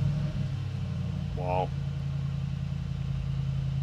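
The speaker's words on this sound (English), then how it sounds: "Let me just start up the car and then you can listen to it." Brabus G800 custom G-Class V8 starting in Sport Plus mode, a low steady engine rumble with a brief rising burst mid-clip, heard from inside the cabin, with a short exclamation from a voice.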